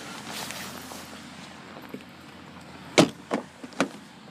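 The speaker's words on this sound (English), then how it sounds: "Pop the trunk," The trunk of a red 2013 Ford Focus Titanium is released and opened, with a faint mechanical rustle followed by a sharp latch clunk and two further thumps close by.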